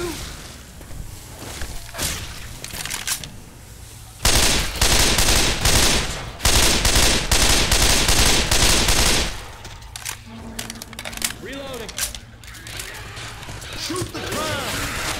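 Heavy gunfire in Left 4 Dead 2 at a dark carnival, with loud sustained automatic bursts in the middle and scattered shots before and after, mixed with in-game voices calling out.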